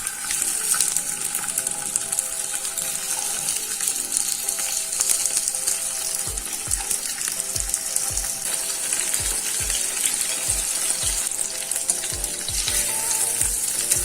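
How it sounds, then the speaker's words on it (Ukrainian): Tomatoes fry gently in a pan over low heat, giving a continuous soft sizzle and crackle, with a few light clinks of utensils partway through and no talk. "Викладаємо помідори та обсмажуємо на повільному вогні 3-4 хвилини."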